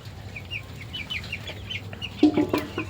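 Chicks peep and cluck on a chicken farm in quick, repeated calls, with a few louder clucks near the end.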